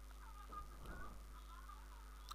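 A turkey in the video game Reus gives a short gobbling cluck, faint and mid-distance, over a steady low electronic hum.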